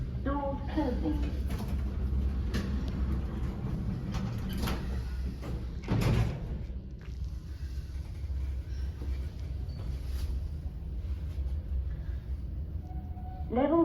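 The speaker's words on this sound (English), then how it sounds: "Doors closing." Lift doors at Cabot Place, Canary Wharf, London slide shut with a soft whoosh and a muffled thump near the middle, set against a steady low hum of the lift and mall, with brief chime-like tones and a voice around it.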